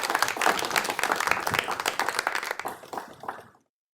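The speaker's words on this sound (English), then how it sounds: "Please, a resounding applause." A crowd claps in dense, lively applause that holds steady, then thins out and stops abruptly into silence.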